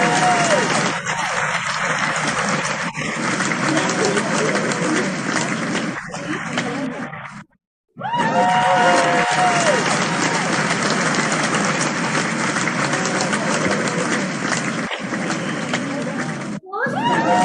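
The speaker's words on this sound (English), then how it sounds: "Let us give them a huge round of applause." Sustained loud applause from a school prize-giving audience as a trophy is awarded at an inter-school competition, broken by a brief gap, with cheering voices mixed in.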